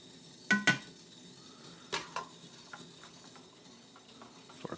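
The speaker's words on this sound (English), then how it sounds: "Give them a stir." A utensil clinks and scrapes against a pot in a few sharp knocks, then lighter scattered taps as military field ration rice porridge is stirred, with no talking.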